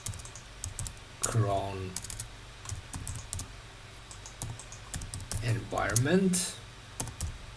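Someone types a command on a computer keyboard, with bursts of quick, close key clicks between stretches of someone speaking.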